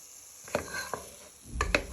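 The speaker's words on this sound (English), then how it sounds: "we're just frying our onion and garlic for our base, for our pumpkin soup" Onion and garlic fry in a pan as the base for pumpkin soup, a low sizzle broken by a few stirring scrapes and clinks of a utensil against the pan.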